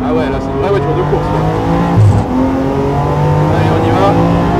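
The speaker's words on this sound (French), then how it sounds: "là, c'est une vraie voiture de course." A 2023 BMW M4 GT4 race car driving on a track, its engine droning and shifting pitch through gears from inside the cockpit, loud and continuous with a voice talking over it.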